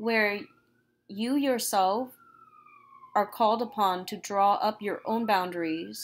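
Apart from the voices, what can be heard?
siren passing outside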